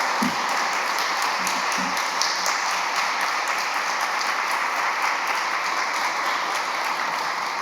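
A lecture-hall audience at Oberlin College applauds steadily as Peter Staley is welcomed, a dense even wash of clapping that holds at full strength throughout without fading.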